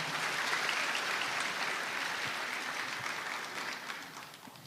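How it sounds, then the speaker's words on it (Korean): Applause at a church thanksgiving service and graduation ceremony, a steady wash of many hands clapping that fades slightly toward the end. "다시 한번 박수 한번 해주시기 바랍니다"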